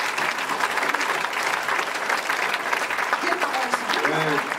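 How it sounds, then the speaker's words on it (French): Applause from the audience at a French wine-song evening: a sustained, loud patter of many hands, with a few voices and brief tonal sounds surfacing near the end. "il mérite vos applaudissements."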